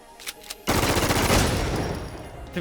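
A QBZ 95 rifle fires on full automatic in the video game Infestation, a sudden loud, rapid burst of shots that rolls on continuously for about two seconds after a couple of quiet clicks.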